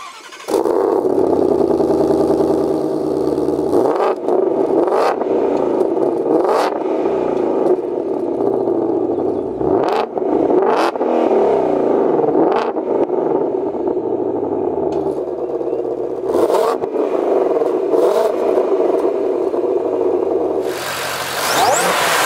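A 2020-2023 Ford Mustang Shelby GT500 V8 cranks and fires up, then idles with a deep rumble broken by repeated sharp throttle blips and revs, loud and close, with no talk.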